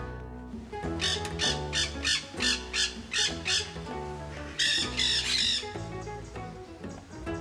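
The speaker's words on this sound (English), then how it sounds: "We have free-flying finches in the pavilion." Busy, repeated squawks and chirps from several small free-flying finches in a tropical conservatory pavilion, bright and overlapping in quick bursts, fairly close with a steady chattering background.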